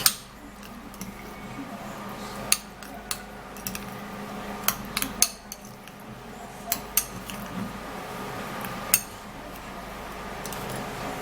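A thick rice skin-care paste being mixed in a bowl makes quiet scraping with intermittent sharp clinks and taps of utensil against the bowl, irregularly spaced, close and faint.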